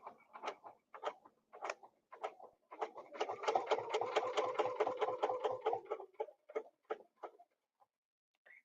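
A sewing machine stitches along a seam line, starting with a few short bursts of needle clatter, then running steadily for about three seconds before slowing into more stop-start bursts, quiet and close.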